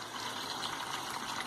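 Water runs steadily from an opened outlet on a home plumbing system with a pump and homemade flow switch, a continuous broadband hiss that stays even and close, with no speech.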